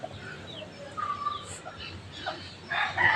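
A labuyo jungle fowl rooster gives short crowing and clucking calls at moderate distance, with a voice talking over much of it.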